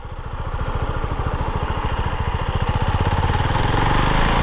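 A Husqvarna Vitpilen 701 single-cylinder 700cc motorcycle engine revs up, its loud, close, pulsing thump quickening steadily over a few seconds with no talk.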